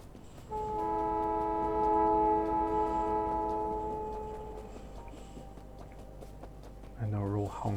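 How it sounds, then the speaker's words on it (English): Several train horns from the video game Factorio honk together in a loud, sustained chord for a few seconds, fading out under rumbling background noise before a voice begins speaking. "And they're all honking away."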